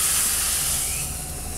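Spices hit hot oil and sizzle loudly as they are tipped into a pot of spicy split mung bean soup, a steady bright hiss that eases slightly toward the end, with no voices.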